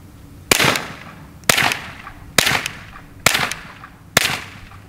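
Suppressed Volquartsen Black Mamba pistol firing Gemtech subsonic rounds: five sharp, muffled shots at a steady pace about one second apart, each with a short decaying tail, close and with no talking.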